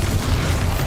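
A Bombarda spell goes off in a video game: one sustained, heavy booming explosion with a dense rumbling low end, loud and close, filling the whole moment without a break.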